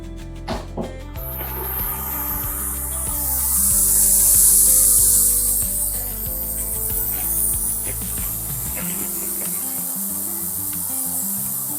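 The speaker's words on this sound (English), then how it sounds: "I'll place the basket inside the ultrasonic cleaning system." Compact medical ultrasonic cleaner running with a basket of surgical instruments, giving a steady high-pitched hiss and hum that swells in the middle and then settles.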